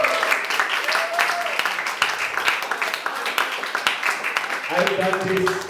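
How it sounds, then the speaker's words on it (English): Lively audience applause at a PechaKucha Night in Manila, a dense, continuous crowd clap with voices talking and calling out over it, ending with a louder spoken voice. "Let's give him a round of applause again."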